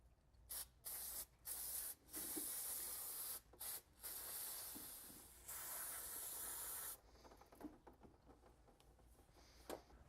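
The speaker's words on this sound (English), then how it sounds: "we're going to take some brake cleaner, spray everything down real well" Brake cleaner sprayed over a caliper and bracket during a brake repair, a loud close hissing aerosol in repeated bursts of varying length, a few short blasts then longer sustained sprays, with faint clinks between.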